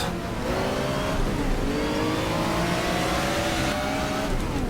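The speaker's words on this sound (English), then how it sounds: "And now an Alfa GTV front." An Alfa Romeo GTV race car in the GTR2 racing game revs and accelerates near and loud, its engine note climbing and shifting through gears in a steady, continuous drone.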